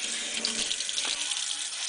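Tap water runs in a steady stream onto a freshly etched circuit board being rinsed at a sink, a close, even hiss and splash lasting about two seconds.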